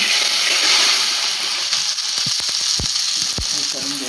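Chopped okra sizzles and fries in a pan, a steady broad hiss with a few clinks of stirring toward the end, close and fairly loud.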